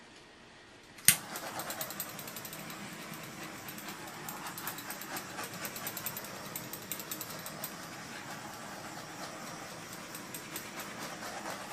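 Heat is applied to settling resin on a lazy susan: after a sharp click, a steady, close, broadband whirring roar of a blower runs continuously with a faint rattle.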